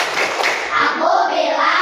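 Children in a classroom chant and clap together in a quick rhythm, their voices and hand claps blending into a steady, fairly loud burst.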